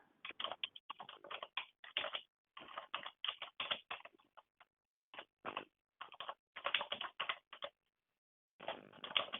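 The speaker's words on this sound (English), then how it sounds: "Somebody's typing." Keyboard typing during an online mindfulness session: bursts of quick clattering keystrokes come in clusters separated by short pauses, close and fairly quiet, with no talking over them.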